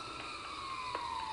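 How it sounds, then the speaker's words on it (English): Distant sirens wail faintly through the city ambience of the video game SWAT 4, a steady high tone gently falling in pitch over a constant background hum. "distant sirens"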